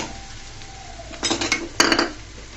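A utensil scrapes and clinks against a pan while stirring pumpkin with red chilli powder and turmeric, over a steady background hum, with two louder bursts of metallic scraping near the end.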